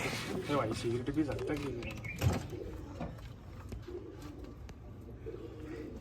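Pigeons coo softly near a person talking, with a brief clatter partway through and quieter ambience afterward.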